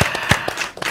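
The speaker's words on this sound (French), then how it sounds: "On l'applaudit très fort." Scattered hand claps from a small crowd at a partnership signing ceremony, a few uneven claps in quick succession, brief and moderately close.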